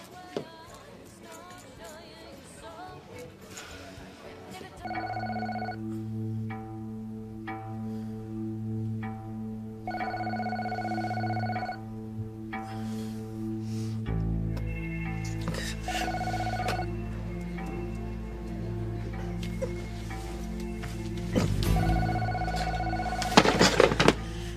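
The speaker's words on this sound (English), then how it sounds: "No answer. It just keeps ringing." A telephone rings again and again with no answer, in steady repeated trills over a low background hum, with no talking.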